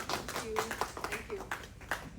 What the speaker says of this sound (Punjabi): ਪਲੀਜ਼ ਇੱਕ ਵਾਰੀ ਤਾਲੀ ਮਾਰੋ